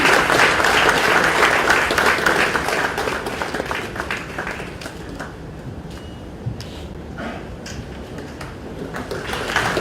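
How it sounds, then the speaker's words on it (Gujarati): Audience applause at the Vibrant Gujarat Valsad summit, dense sustained clapping from a large crowd that thins slightly midway and then swells again. "તાળીઓના ગણગણાટ સાથે આપણે અભિનંદન પાઠવીએ"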